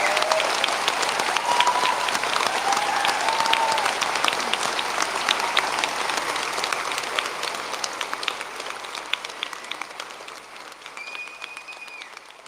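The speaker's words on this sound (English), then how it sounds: "let's take a final round of applause to congratulate our graduates" Auditorium audience at a BNU graduation ceremony for art, design and performance graduates giving a final round of applause, dense continuous clapping that slowly thins toward the end, with a few faint tonal sounds over it.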